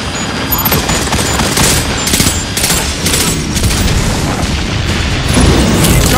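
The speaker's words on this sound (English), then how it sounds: "Charge detonated." Charge detonations in Destiny 2 amid loud multiplayer combat: repeated sharp blasts and crackling bursts at the start, then a sustained roar of gunfire and booms with a heavier swell near the end.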